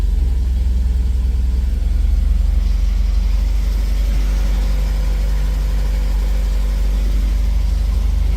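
An old car's engine runs at a steady idle, a loud, close low rumble that holds even throughout with a slight lift partway through and no speech.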